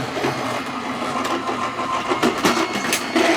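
An Anna Griffin Empress die-cutting machine strains as it presses an embossing die, a continuous loud mechanical grinding hum with slight uneven surges.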